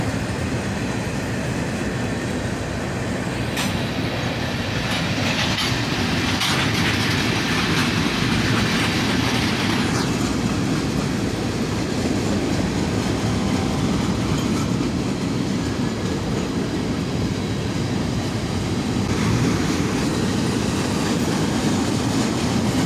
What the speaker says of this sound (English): A pair of Jevos crossing the bridge. An ES44AH leads, followed by an ES40 DC.